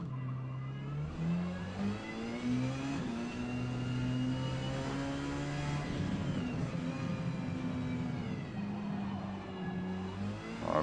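Porsche 919 Hybrid prototype race car in Forza Motorsport, X class at the Kyalami circuit, its engine droning and revving continuously with rising and falling pitch through gear changes, loud and alone.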